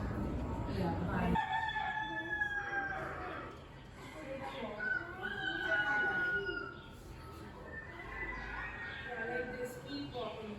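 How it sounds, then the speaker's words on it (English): A rooster crows and farm fowl cluck outdoors near a school in Lahore, repeated crowing calls over a busy background with people talking nearby. "Bird sound"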